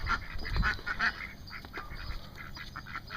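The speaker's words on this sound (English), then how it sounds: "Let me show you the ducks. There they are." A flock of farmyard ducks quacking at feeding time, a cluster of loud, close, overlapping quacks at the start, then looser calls that continue more softly.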